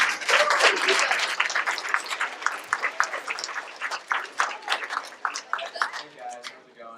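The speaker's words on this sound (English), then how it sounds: "Give him a big round of applause." Audience at a school science fair applauds loudly at first, the clapping thinning into scattered claps before fading out.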